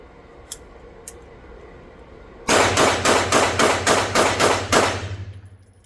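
A Springfield Emissary pistol fires a nine-shot drill in rapid, evenly spaced, loud close-range shots, after two faint clicks in the quiet beforehand.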